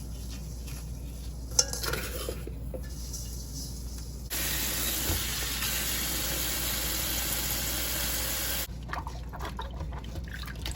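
Tomatoes are washed by hand in salted water, with close sloshing and swishing that grows fuller partway through before easing back, and no voices.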